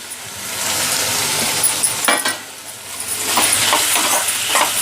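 Chopped onions sizzle in a hot pan for Tamil chilli prawn, a loud, steady frying hiss with scraping stirs rising through it.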